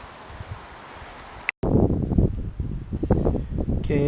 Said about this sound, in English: it is way colder and way windier than I thought